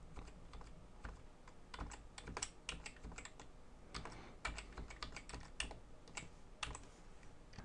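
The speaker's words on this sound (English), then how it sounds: "I'll demonstrate a bit of navigation through the tree view, first with the keyboard." Computer keyboard typing while navigating a tree view in medical practice management software, a steady run of close, crisp key clicks with irregular rhythm and no talking.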